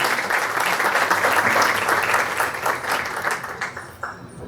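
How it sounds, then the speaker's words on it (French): An audience applauds during a minister of communication and culture's speech, a loud sustained burst of clapping that holds steady before tapering off toward the close. "Donc ça mérite un applaudissement en guise de remerciement pour les uns et les autres."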